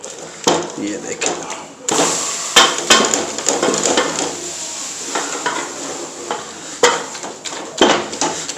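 Cooked pumpkin (petha) being mashed in a pot with a heavy wooden stick for halwa: repeated close knocks and scraping thuds against the metal pot in an uneven rhythm, with wet squelching between strikes.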